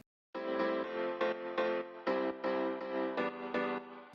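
A quiet, wide stereo piano layer starts after a short silence and plays a run of repeated chords, soft sustained tones swelling with each strike, heard alone.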